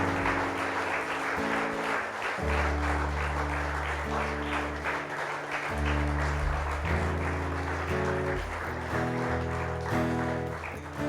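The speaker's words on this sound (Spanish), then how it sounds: "Dale un aplauso al Señor." A church congregation applauds the Lord, a broad clapping texture running under loud sustained music with bass and keyboard chords throughout, no speech standing out.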